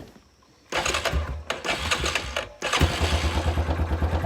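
A quad bike engine idles, then revs into a loud, rhythmic, pulsing chug close by, broken by short gaps before it settles into a steady beat.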